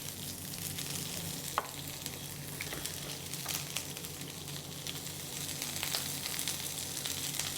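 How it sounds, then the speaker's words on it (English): Steady crackling sizzle of onions frying in hot oil in a pan, close and continuous with occasional sharper pops. "So I've got here hot oil in a pan here, and we'll put onions in here."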